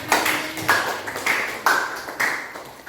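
Classroom hand clapping during a teaching lesson, with six sharp claps spaced regularly about half a second apart, moderately close and without talk.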